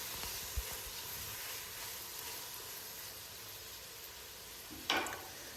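Chopped tomatoes frying in a pan while cooking stuffed peppers, a steady soft sizzle and hiss throughout with a brief louder spatter near the end.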